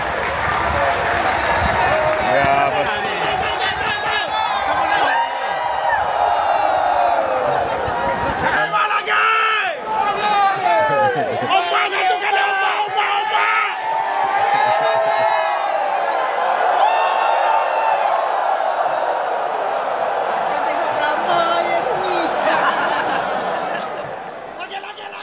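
A dense crowd of fans at the Malaysian MotoGP in Sepang, a constant roar of cheering, chatter and laughter with voices mixing close and far, steady and loud throughout.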